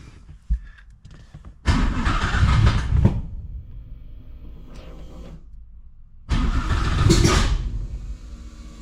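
A TVR Cerbera sports car engine cranks and catches in two loud bursts, each surging then settling to a rough idle, after new coils were fitted and with the spark plug leads wrongly connected.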